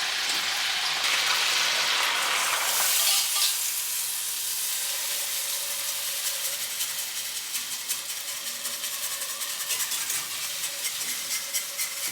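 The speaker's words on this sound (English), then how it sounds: "They're sizzling away, steaming under the lid" Green beans sizzle loudly under a lid on a hot Blackstone griddle, a steady crackling hiss that surges early and then settles into an even fry.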